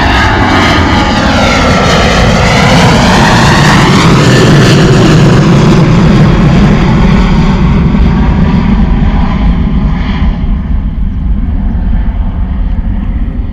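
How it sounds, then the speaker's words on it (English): A Jet2 passenger jet in holiday livery rotates and departs at Bristol Airport, its engines delivering a loud, sustained roar that swells and then slowly fades as the aircraft climbs away. "Gorgeous rotation and departure from the Jet2 holiday livery."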